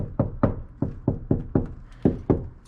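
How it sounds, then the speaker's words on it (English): Eight hollow, damped knocks on the door of an S95 New Edge Ford Mustang fitted with sound deadener, close and distinct in an irregular rhythm, with no talking. "now like when you knock on the door"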